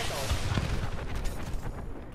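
Rapid Apex Legends gunfire and heavy impacts pound without pause for a couple of seconds, dense and close, with a player's voice mixed into the din.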